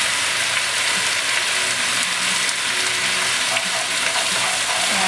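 Rice noodles stir-fried in a pan with sweet soy sauce, salt and pepper give a loud steady sizzle and hiss, with faint scraping as they are mixed.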